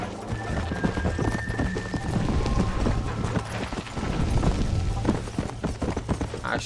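A horse galloping in the video game Red Dead Redemption, its steady rapid hoofbeats running throughout at close range over a continuous background of game noise.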